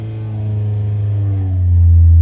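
A Honda dirt bike engine on a dyno is held wide open from about 2,500 rpm, a loud steady droning roar that climbs in pitch and builds toward the end.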